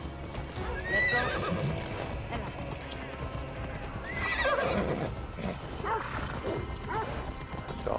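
Clip-clop of a galloping horse in Assassin's Creed Odyssey, rhythmic hooves close up with neighs and a dog barking nearby, while a voice talks over the action.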